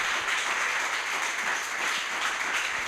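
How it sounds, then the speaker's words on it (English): An audience at a startup demo day breaks into steady, sustained applause, dense clapping from a large crowd continuing evenly throughout without voices over it. "Could we just have like one round of applause for them for that last 3 months of hard work?"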